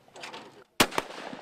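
A single sharp gunshot from a firearm at an outdoor shooting range event, loud and close, following a stretch of background chatter and crowd noise, with a brief echoing tail after the crack.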